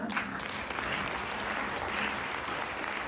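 A church congregation claps during an Urdu Palm Sunday sermon, a dense, even round of applause from many people that runs steadily for about three seconds.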